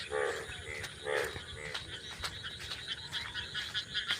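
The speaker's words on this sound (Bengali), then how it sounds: "ব্যাংক দেখেন কি করে ডাকতেছে ব্যাংক" Frogs croaking in a close, lively chorus of repeated rasping calls, pulsing in short bursts at a moderate volume with no speech over them.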